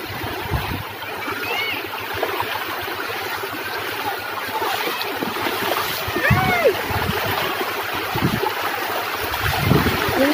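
Flowing river water swirls and splashes steadily around people wading across a river on the way to a waterfall in Bulacan, with occasional sharper splashes and faint voices beneath.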